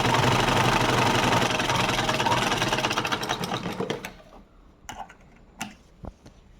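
A sewing machine runs steadily for about four seconds while stitching fabric for hair rubber bands, with a dense mechanical whirr, close and loud. It then stops, leaving a few sharp clicks and taps of fabric being handled.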